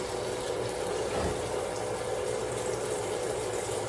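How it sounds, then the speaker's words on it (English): Beef braciole searing slowly in a hot pan, a steady broadband sizzle holding at an even level throughout with no talking. "we're just gonna slowly sear the outside of this"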